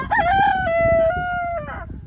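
A rooster crows once, loud and close, a long drawn-out call with a sustained middle note, ending in a short trailing phrase.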